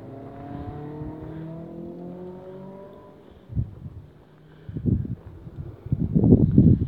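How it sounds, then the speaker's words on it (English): A vehicle climbs a road near abandoned mines in Wales, its engine note rising in long drawn-out sweeps before rougher, louder rumbling bursts build toward the end as it nears. "Vehicle going up the road."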